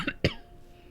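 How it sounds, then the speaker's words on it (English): Two short coughs into a microphone, a quick light one followed by a louder, fuller one, close and alone with a quiet room behind. "me coughing into the microphone"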